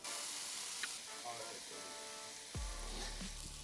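Steaks sizzle on a hot surface, a faint, steady frying hiss throughout, with a sudden louder crackle and low rumble near the end as more meat goes down.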